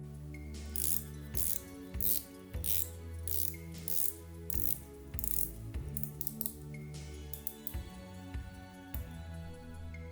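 The rotating bezel of an Invicta Pro Diver 7041 watch ratchets in quick, close clicking bursts separated by short pauses, crisp and quiet with no voices.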